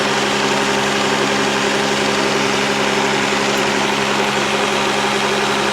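The diesel engine of a Monaco Dynasty motorhome with a freshly rebuilt P7100 injection pump idles steadily and loudly close by, a continuous even rumble with a slightly high idle and no talk.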